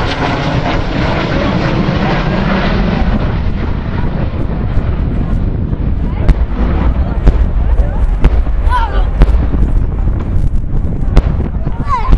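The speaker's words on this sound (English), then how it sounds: "it's going to do a simulated bombing run, so it's going to be some series of loud bangs" Sharp bangs pop repeatedly over the roaring Avro Vulcan XH558 jet during a simulated bombing run display at RAF Waddington, with gusty wind noise and voices faintly underneath.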